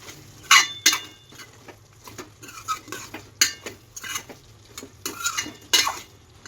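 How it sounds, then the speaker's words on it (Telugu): A spoon stirs ginger paste into Andhra-style chicken curry in a pan, with loud irregular metallic clanks and scrapes against the pan over a soft sizzling background, no voices. "అల్లం పేస్ట్ వేసుకొని ఒకసారి తిప్పాలి"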